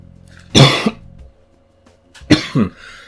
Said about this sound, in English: I have no idea why I'm coughing so much